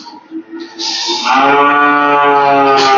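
A three-and-a-half-month-old calf on a dairy farm gives a loud, sustained moo close by, rising after a few soft grunts and holding steady with no talking over it.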